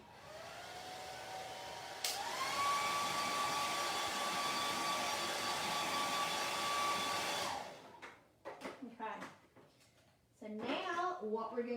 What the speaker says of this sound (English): hit at it with a blow dryer really quick just to make sure that it's dry